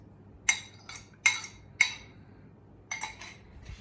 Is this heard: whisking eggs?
yes